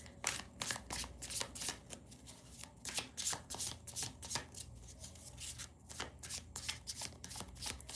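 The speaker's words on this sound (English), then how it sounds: "Just got to shuffle a few more times." Tarot cards shuffled by hand, a quick run of soft riffling and slapping bursts in an uneven rhythm, close and fairly quiet, with no talking.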